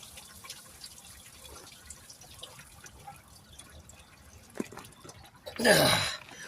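Coolant drains from the removed thermostat hose of a 2012 Jeep Commander, faint soft drips and trickles over a quiet background, then a brief, louder gush of liquid near the end.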